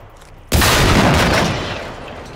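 A gunshot sounds in the video game Generation Zero, fired during a fight with robots: one sudden loud blast that breaks a quiet moment and then decays into a long, dense rumbling tail.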